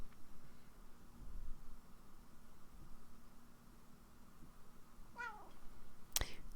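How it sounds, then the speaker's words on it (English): A house cat gives a couple of short meows near the end of a quiet indoor stretch with faint background hiss, and no one speaks. "That was my cat talking if you heard him."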